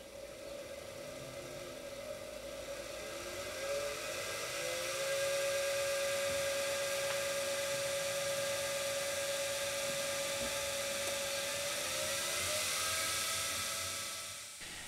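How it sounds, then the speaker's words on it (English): A motor salvaged from a Siemens washing machine runs as a DC motor on 20 volts across the rotor, giving off a steady whine with a clear tone that rises, holds, then shifts near the end over a hissy background. "Here, for example, the motor is running with only 20 volts across the rotor"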